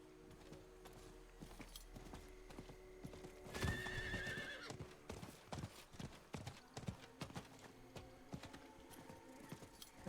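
Diablo 4 horse hooves clip-clop in a steady galloping rhythm, with a loud whinny partway through; the gallop continues at close range afterward.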